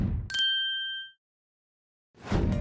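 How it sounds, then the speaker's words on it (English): An alarm sounds as a single bright electronic chime that rings out and fades over about a second, followed by silence and then a brief rustling noise. "Why did the alarm go off?"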